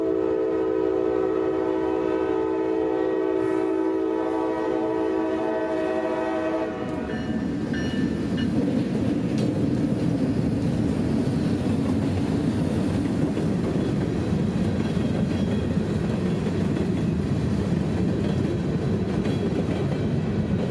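Freight locomotive O728 on the Brooksville cement local notches up and rolls past, its horn blaring in long steady blasts at first before giving way to a loud, continuous rumble and wheel roar of the passing train.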